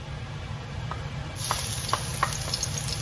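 Chopped ginger sizzles steadily in a little hot oil in a pan, a soft continuous hiss with a few faint clicks and stirring sounds close by.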